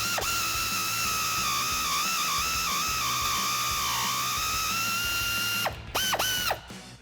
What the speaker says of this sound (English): I have that 15mm deep socket on my air ratchet, and then I have a 10mm wrench on the shaft of the end link